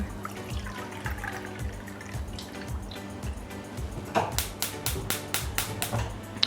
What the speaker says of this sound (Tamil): அதில் 1/2 கப் தண்ணி சேர்த்துக்கலாம்.